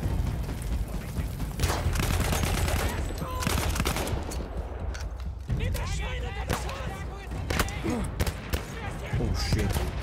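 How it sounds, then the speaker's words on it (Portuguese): Cannon blasts and heavy gunfire from Battlefield 1, a dense, continuous barrage of shots and booms throughout with loud overlapping bursts, with players talking over the battle. "Aí eu já estou a disparar canhão para cá e tudo, meu."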